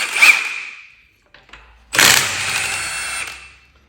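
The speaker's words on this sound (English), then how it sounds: "let's get these wheel nuts undone and get this wheel off. Okay, so I'm going to use my gun" An impact gun loosening the 17 mm wheel nuts on a Vauxhall Mokka, two loud bursts of rattling, whirring power-tool noise, a short one followed after a pause by a longer, sustained run, close up.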